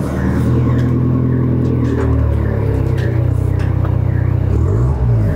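A stock Alfa Romeo Giulietta engine runs close by with a deep, steady rumble, its pitch shifting slightly as it revs near the end.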